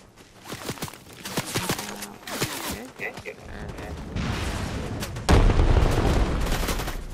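Gunfire crackles in a video game as people shoot, with quick sharp shots and bursts early on, then a louder rumbling barrage of heavier booms near the end, plus scattered footsteps and a little talk.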